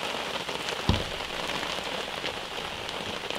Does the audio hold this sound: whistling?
no